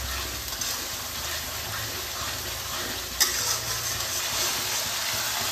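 Ginger-garlic paste sizzles steadily while being stirred in a pan for a goat liver and young jackfruit curry, with continuous frying hiss and one brief metallic clink of the utensil.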